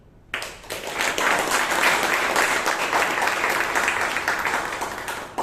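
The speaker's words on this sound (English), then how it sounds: "Can we have a huge round of applause to everyone who came here on stage today?" Audience applause at a Toastmasters meeting in Bangalore, a loud, dense crowd clapping that swells quickly and holds steady for several seconds before easing slightly.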